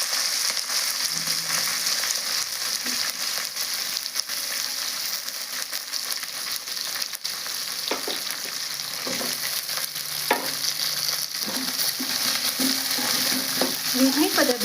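Chopped onion, curry leaves and green chillies frying in a pan, a continuous crackling sizzle with occasional stirring scrapes growing busier toward the end, no voices.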